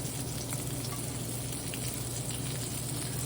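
Salmon cakes fry in hot oil in a pan, a steady, close, dense sizzle and crackle that holds evenly throughout without any talk.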